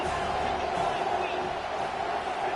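Stadium crowd in the NCAA 25 college football video game, a steady, dense roar of many voices holding at an even level throughout without any distinct peaks.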